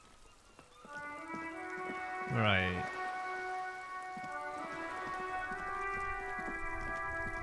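Rain ambience in the video game Disco Elysium, a soft steady patter under sustained tonal music, with a brief rising-falling sweep and one short spoken word.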